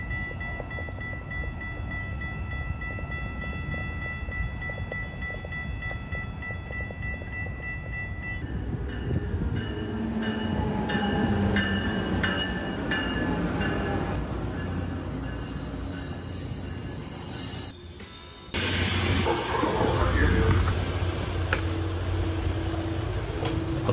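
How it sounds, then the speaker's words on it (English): Inside a Tri-Rail commuter train running from Deerfield Beach to Miami there is a constant rolling rumble. Thin whining and squealing tones rise over it, and the sound shifts abruptly twice as the ride goes on, with no voices. "I will be traveling with Tri-Rail from Deerfield Beach to downtown Miami"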